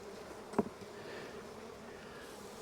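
A steady, faint buzz of honey bees fills the background during a hive check, with one brief, closer buzzing pass early on.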